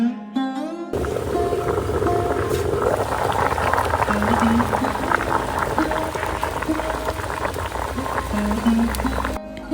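Olives boil steadily in a pot of water for pickle, a continuous bubbling simmer that lasts throughout, with faint kitchen clinks and the occasional brief tone over it.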